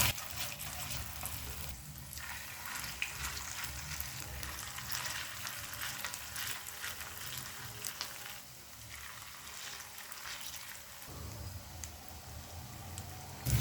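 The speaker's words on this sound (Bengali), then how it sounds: "বাকি বড়াগুলো আমি একইভাবে ভেজে নেব।" Sabudana (tapioca pearl) fritters deep-frying in hot oil give a steady, close crackling sizzle throughout, with a brief quieter dip near the end and no talking.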